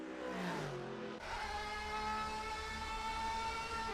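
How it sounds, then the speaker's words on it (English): The Valkyrie race car's engine roars at the 24 Hours of Le Mans, its pitch climbing steadily as it picks up speed. The sound is loud, continuous and alone. "Picking up the speed, listen to the engine roar"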